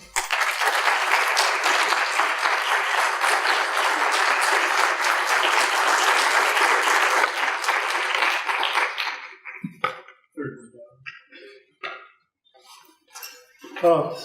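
An audience gives sustained, dense applause to welcome a speaker at a talk on French eco-urbanism. The clapping fades after about nine seconds into scattered claps and a few light clinks.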